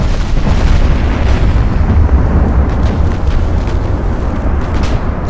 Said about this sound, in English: This gunfire coming from over here is inconsequential.